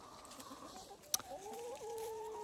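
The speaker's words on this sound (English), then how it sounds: "There he is. Good old rooster." A rooster on a farm gives a single drawn-out crow, fairly close and clear, rising then holding its wavering note over quiet outdoor background for about a second and a half.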